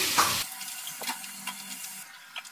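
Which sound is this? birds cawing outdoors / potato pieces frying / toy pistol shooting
potato pieces frying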